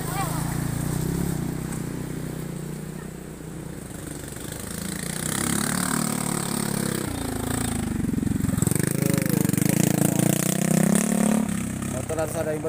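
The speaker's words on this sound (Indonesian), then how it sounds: "Awas deh motor kakak, awas." A motorcycle engine running close by on a narrow tourist road in Indonesia, its drone swelling louder as it nears and passes, heard under ongoing talk.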